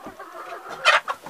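A grey rooster clucks close up in a shed, a few short throaty calls rising to a louder burst near the end.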